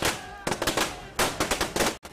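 Firecrackers set off by farmers celebrating a loan waiver crackle in rapid bursts, loud, sharp pops fired in quick volleys with brief gaps between them.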